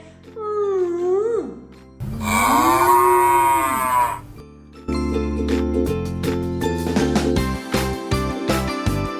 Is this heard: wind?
no